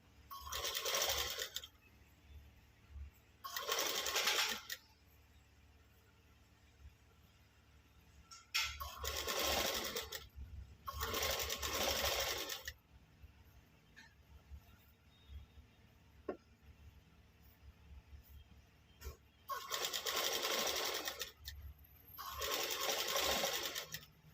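A sewing machine stitches saree falls in about six separate bursts of fast, whirring needle runs, each lasting one to two seconds, with quiet pauses between them.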